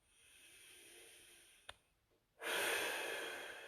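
Slow, soft breath drawn in through the nose during a full-body static stretch, a faint rising hiss and a brief snort, then a louder, longer breathy rush close to the mic.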